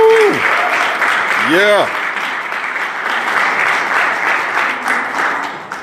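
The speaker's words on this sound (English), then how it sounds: "if everybody would join me in applause for them" Applause for Vietnam veterans at a veterans town hall held at a riverfront, a sustained wash of clapping from a room full of people with a whoop and brief voices over it.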